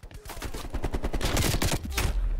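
Gunfire in Call of Duty Black Ops Cold War: fast, close bursts of automatic shots fire continuously for over two seconds, loud and dense with overlapping reports.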